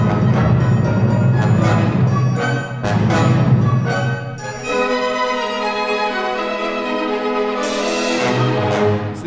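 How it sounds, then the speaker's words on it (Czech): Orchestral music from Janáček's Taras Bulba with several bright cymbal clashes depicting a sword fight, ringing and shimmering over the ensemble, then a sustained, louder passage. "A souboj s meči uslyšíme několikrát u čineli."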